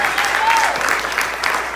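Congregation applauding in a church, a steady wash of clapping filling the whole short stretch, with a voice carrying briefly over it.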